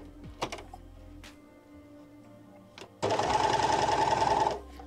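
An overlock serger sewing curves in fabric runs in one loud, fast burst of nearly two seconds, preceded by quiet clicks and handling noises.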